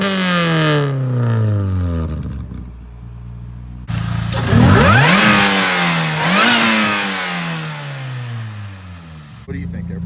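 Supercharged Chevrolet Cobalt SS with a ZZP Stage 1 setup, close by: the engine cranks and fires, settles, then revs up sharply several times with rising and falling whine before dropping back, ending with another burst.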